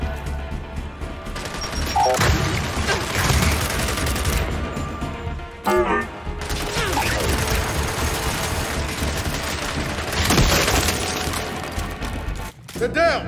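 In the game Gears 5, a frag grenade explodes amid sustained bursts of gunfire and crashing impacts. The firefight is loud and dense, with a brief lull and a final blast, and voices are heard shouting over it.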